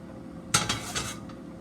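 An old-school non-stick pan is handled at a kitchen counter as a tablespoon of oil goes in, giving a few close metallic clinks and knocks in quick succession, then quiet.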